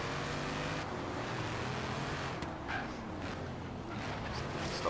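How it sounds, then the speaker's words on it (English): A car engine in the Forza Horizon 3 racing game, playing in a Hemi-powered race. It drones steadily at high revs, bouncing off the rev limiter, fairly quiet and continuous with no talk over it. "Oh, you can hear him on the rev limiter."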